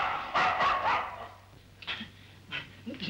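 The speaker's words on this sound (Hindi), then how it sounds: "कुत्ता है।" A dog barks several times in a house bedroom, a short burst of yelps followed by a few scattered barks at moderate distance, with no talk over it.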